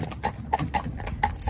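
A horse's hooves clip-clop in a steady trot on a road, a part-bred Arab stallion being ridden, with four clear evenly spaced hoof strikes sounding close and moderately loud.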